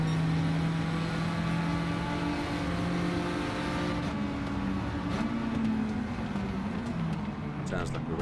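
A race car engine revs and holds a steady high drone with sustained harmonic tones that shift in pitch partway through, loud and continuous, with voices talking faintly underneath.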